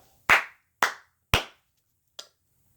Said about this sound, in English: I want to clap.